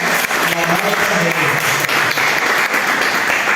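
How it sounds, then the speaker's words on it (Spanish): A crowd at a Pan-Amazon Social Forum panel claps loudly and steadily throughout, a dense unbroken roar of hands with voices mixed in underneath. "Damos outra forte aplauso para animar esse povo"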